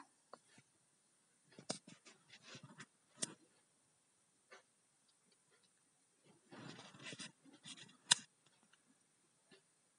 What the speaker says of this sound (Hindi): यहाँ पर मैं कैंची का यूज कर रही हूँ मेथी को काटने के लिए